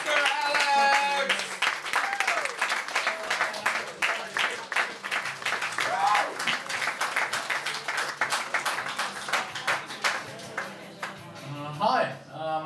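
Audience applause for a stand-up comedian, steady clapping at a comedy show sustained for several seconds, with voices and cheering mixed in and someone speaking over it near the end.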